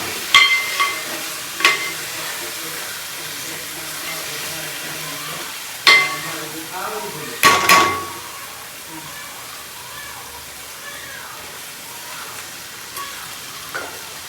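Biryani masala with curd and chilli is stirred in a pot, a low simmering sizzle marked by occasional loud spoon knocks and scrapes against the pot, with quieter stretches in between.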